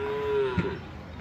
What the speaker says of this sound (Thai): ขนวัวขึ้นรถครับ